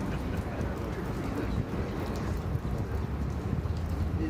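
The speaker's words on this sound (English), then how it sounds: "it's raining and wet outside" Steady rain falls outdoors during a Navy Week flag ceremony in Buffalo, a dense, even hiss of drops on surfaces running loud and continuous throughout, with no clear voices.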